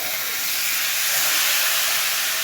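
Water poured into a hot pan of potatoes with cumin powder for Bengali niramish aloor dum hisses and steams, a loud, steady broadband sizzle that holds evenly throughout with no talk.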